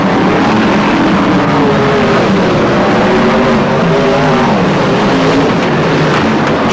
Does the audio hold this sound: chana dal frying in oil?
no